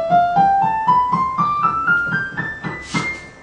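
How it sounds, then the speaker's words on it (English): Piano notes step upward one after another in an even rising sequence of about ten tones, each struck clearly and ringing briefly, growing higher and thinner toward the top of the keyboard. "The higher we go, the notes get higher and thinner."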